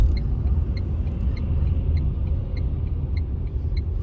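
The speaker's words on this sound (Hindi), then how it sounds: "इसलिए हमको यहाँ पे अब गाड़ी रोकनी पड़ेगी।" A Tata Nexon AMT car slowing to a stop on a highway near Hampi, heard from inside the cabin as a steady low road and engine rumble with faint repeating high ticks.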